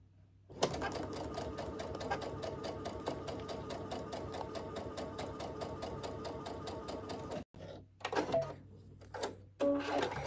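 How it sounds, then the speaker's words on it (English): A sewing machine stitching quilt pieces together runs in a fast, steady mechanical whir for several seconds nearby, then stops and gives a few shorter bursts. "I'm just going to put this one on top of this one, line it up, and we're gonna go ahead and stitch this down."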